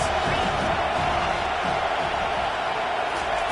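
A stadium crowd at a football game roars in a broad, constant wash of noise during a big third-down defensive stand, while a commentator talks over it.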